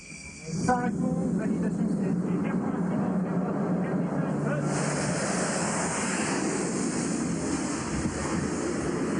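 An aircraft launches by steam catapult from a carrier deck: a sharp hiss and thump start a loud, sustained roaring rush that stays strong for several seconds.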